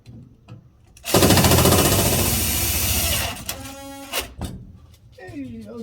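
A power driver runs screws to mount an AprilAire 500 humidifier: one loud, steady whirring burst of about two seconds, then brief rattles and a few short knocks, with talk nearby.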